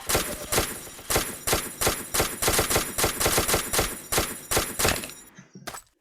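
Rapid, loud bursts of automatic gunfire in the video game Ace of Spades, regular close shots repeating for several seconds before cutting off abruptly, with no talking over them.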